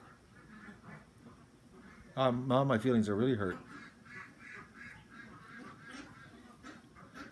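Geese honk and quack in a loud burst of several calls in the middle, with a person talking quietly before and after.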